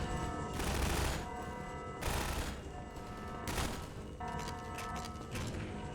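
Sustained bursts of automatic gunfire from a firefight in the video game Half-Life 2 Episode Two, several loud broadband volleys roughly every second or two, continuous and dense with no voices.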